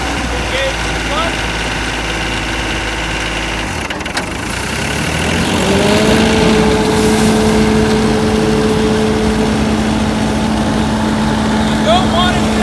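A FINN B70 straw blower engine fires up after a brief lull and settles into a loud, steady drone with a rising tonal whine, running continuously through the rest of the stretch without speech.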